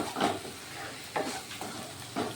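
Spice paste of onion, garlic and ginger frying in oil in a pan, heard as soft, quiet sizzling with a few brief bursts of stirring scrapes, no voices.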